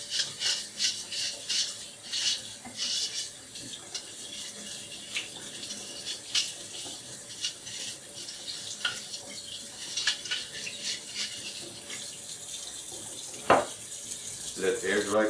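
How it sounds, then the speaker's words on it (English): A brush scrubs the waste bin funnel of a Necta Opera Touch coffee machine under running hot water. Quick rhythmic bristle strokes rasp steadily over the flowing water, close by, with a sharp knock near the end. "Brush the waste bin funnel under hot water to remove any residues."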